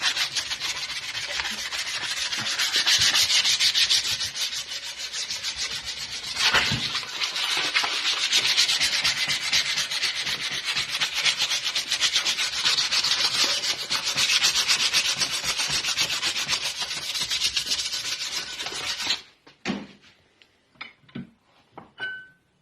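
Sanding rust off parts of an old bike frame makes a close, continuous abrasive scrubbing for about nineteen seconds, then breaks into a few short scrapes and knocks.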